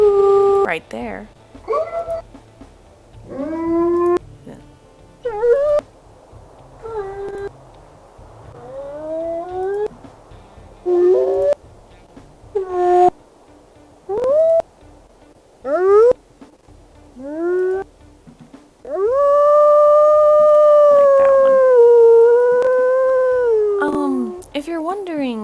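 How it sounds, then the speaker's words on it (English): A series of wolf howls from the game WolfQuest 3, many short rising and falling calls separated by pauses, then one long sustained howl near the end, clear and close with someone speaking between them. "So I'm going to go ahead and pick the secondary howl that I like"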